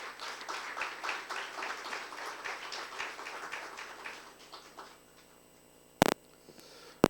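Audience applause welcomes the chief guest at an international life sciences conference, a moderate, steady patter of many hands that fades out over about five seconds, followed by quiet room tone and a couple of sharp knocks.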